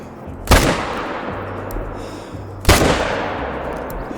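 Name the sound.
gunshots hunting deer in video game theHunter Call of the Wild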